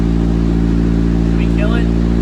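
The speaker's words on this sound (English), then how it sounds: "Misfired. It's a fresh engine." A fresh engine in an EG-generation Honda Civic hatchback idles roughly and steadily with a misfire, its constant low drone loud and close, while voices talk faintly over it.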